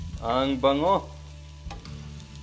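Shrimp are being sautéed in a pan for Filipino ginisang ampalaya and sizzle steadily close by, while someone speaks briefly over the frying.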